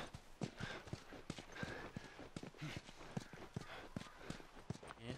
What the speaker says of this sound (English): We're chilling with the horse.